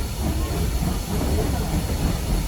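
Train of 1930s-era cars and coaches on the Strasburg Rail Road in Pennsylvania coming to a stop, a loud steady rumbling and hissing heard from on board with a faint murmur of voices under it.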